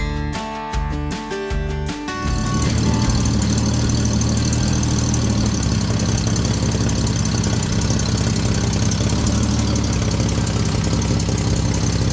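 A 1974 Volvo 164E car engine runs steadily and loudly close by, a brief uneven start giving way to a continuous dense rumble that holds for about ten seconds with no talk.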